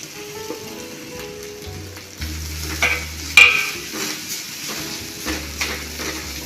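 Grated coconut roasting with fennel seeds in a hot pan for Kerala-style egg curry, with a soft steady sizzle, repeated scraping stirs and a few sharp clinks of a spoon against the pan.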